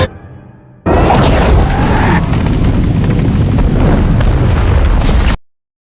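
A loud explosion bursts in after a brief quiet moment, followed by a sustained roaring rumble that cuts off abruptly.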